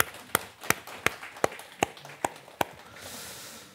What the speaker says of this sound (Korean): 우리 한번 서로에게 박수로 한번 격려할까요?